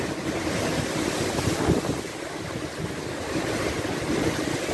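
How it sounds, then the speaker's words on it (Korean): Storm waves churn on a lake in played-back footage, a loud continuous roar of surf and gusting wind noise that swells and eases without letup, with no voices. "파도의 크기가 엄청나죠? 마치 호수가 아니라 거센 바다의 모습을 보는 것 같은 모습입니다."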